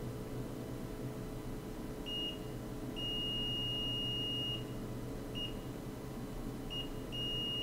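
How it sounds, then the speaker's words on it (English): A multimeter in continuity mode beeps while probing a MacBook Air logic board under repair for no power; several short beeps and one longer steady tone ring out over a constant low room hum. "now we should get a beep all the way up to here"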